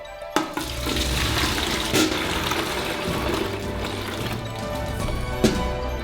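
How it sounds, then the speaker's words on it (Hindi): Carrot juice poured from a bowl into a bucket, a continuous splashing liquid stream that runs for several seconds with a couple of knocks against the container, close and clear, without speech. "हम बाल्टी में रस जमा करेंगे, इसलिए हम कटोरे में से डालेंगे"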